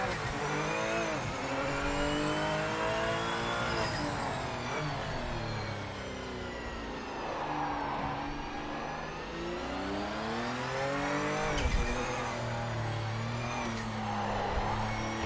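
A race car engine in Project Motor Racing revs and climbs through the gears on track, its rising and falling harmonic whine loud and continuous, with brief upshift breaks and no talk.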